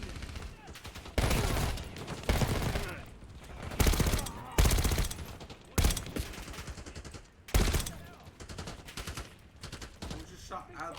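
Heavy automatic gunfire in a Black Ops 6 campaign firefight around a helicopter, with loud bursts and sustained machine-gun fusillades that come in repeated waves over a constant din of combat.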